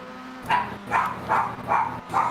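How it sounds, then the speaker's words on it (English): A dog barks five times in a steady rhythm, each bark clear and mid-loud, over a constant low background hum. "Dog."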